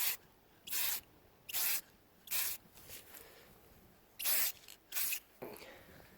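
Short hissing bursts of spray tint being applied to tail lights of a 1992 Jeep Cherokee XJ, about seven even blasts with brief gaps, close and fairly loud, no talk.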